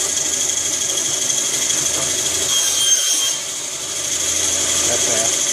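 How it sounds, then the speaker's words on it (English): A Delta wood and metal band saw running at high speed through 1/2 inch plywood, a steady loud whine with a brief dip as the cut finishes, and no talking over it. "show it cutting this piece of plywood. It's roughly 1/2 inch thick."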